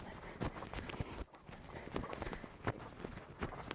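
A horse trotting during a riding schooling session: rhythmic hoofbeats in steady, close, moderately loud clip-clop pairs, with no talk over them.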